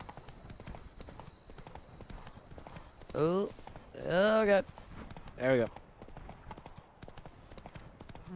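Horse hooves clip-clop at a steady, rhythmic gait while riding in the video game The Witcher 3, with a man's brief exclamations breaking in over the hoofbeats.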